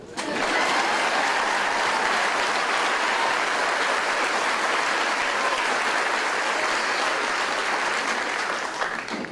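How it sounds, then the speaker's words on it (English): Loud, sustained applause from a large crowd at an Army basic training graduation ceremony at Fort Jackson, South Carolina, a thick continuous clatter of many hands that swells in quickly and holds steady throughout. "You can applaud."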